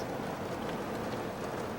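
Light rain falls in the desert as a steady, soft, even hiss with no distinct drops, close and constant across the short stretch.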